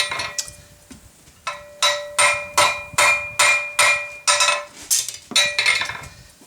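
A hot steel belt buckle is hammered on an anvil in about a dozen sharp, ringing metallic strikes at a steady pace, each with a short bright ring-out, close and loud, with brief pauses near the start and end.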